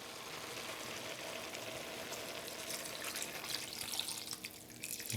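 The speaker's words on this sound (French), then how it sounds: "on peut mouiller à hauteur avec le fond de veau" Veal stock poured over potatoes in a pot while braising veal paupiettes, a steady continuous liquid pouring and splashing sound lasting throughout, fairly close and alone with no talk.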